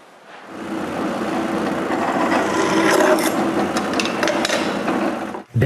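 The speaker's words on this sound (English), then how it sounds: "I need to drill new holes." Drilling new holes in 1/2-inch plywood for modified drawer slides on wooden folding shelves, a close, loud, continuous grinding whir lasting about five seconds before stopping abruptly.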